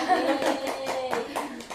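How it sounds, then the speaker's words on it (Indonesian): Several short bursts of clapping from a high school class, uneven and a bit scattered, with young voices and light laughter mixed in. "tepuk tangan buat semuanya"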